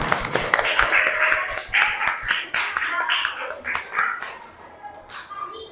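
A small class in an Islamic history lesson gives scattered hand clapping for a correct answer, loose and uneven claps up close with some children's voices mixed in, tapering off toward the end.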